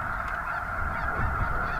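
Huge flocks of geese on a lake honk together in a dense, steady chorus, a continuous wash of distant overlapping calls with no single bird standing out.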